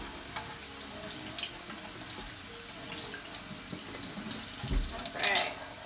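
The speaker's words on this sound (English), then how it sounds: "I'm going to give the noodles a little bit of a rinse as well" Tap water runs steadily while brown rice noodles are rinsed in a kitchen sink, a continuous splashing hiss that swells louder near the end.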